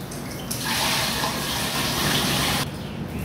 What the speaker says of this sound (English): FLOW-AIDE is biodegradable, so you actually throw it right down the drain.